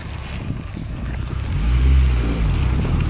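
A motorboat carrying passengers on Lake Ladoga toward Konevets island, its engine droning low and loud with wind noise, the rumble swelling midway.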